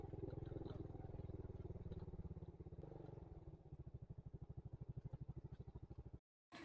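Motorcycle being parked: a close engine idles with a rough, steady putter, the beat slowing and loosening as it settles, then the engine cuts to silence briefly before faint ambient noise returns.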